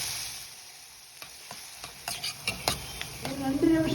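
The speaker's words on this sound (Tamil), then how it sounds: "வெங்காயம் நல்லா வதக்கிட்டேன்னு தயிர் மசாலா போட்டு வதக்கிக்கோ" Onions with curd masala sautéing in a pan for okra curd curry, quiet at first, then scattered stirring scrapes build into a soft sizzle toward the end.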